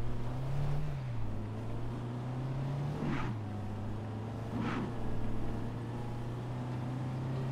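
Car engine droning steadily while driving in Just Cause 3, with a low continuous hum that rises slightly in pitch at times and a couple of brief whooshing swells over a constant rumbling background.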